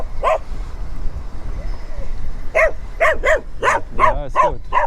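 Dogs on a roadside in Sicily bark close by in short, sharp bursts, a single bark first and then a quick series of yaps after a pause, with outdoor background noise.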